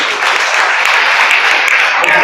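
An audience at a talk claps loudly and continuously, a thick, close burst of applause with voices mixed into it.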